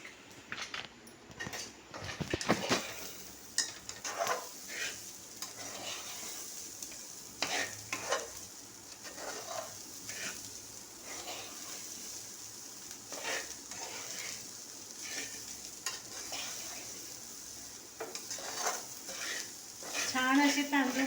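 Rice roasted in a pan with salt for masale bhat, stirred in steady scraping passes over a soft continuous sizzle, with a few sharper utensil knocks against the pan; close and moderately loud, no voice.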